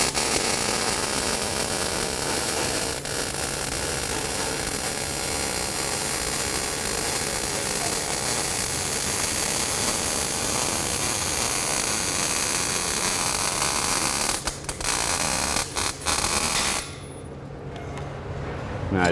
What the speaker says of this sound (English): Make sure your settings are good before you start the weld.